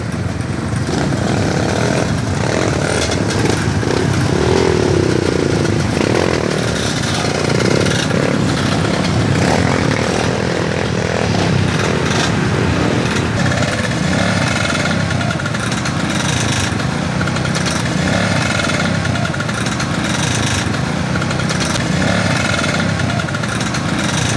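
Motorcycle engine revving and pulling hard on the road to Bareuhbeuy in Subang, a loud, steady drone with rising throttle surges throughout, close up with wind rush and no talking.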